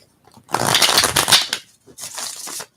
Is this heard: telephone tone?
no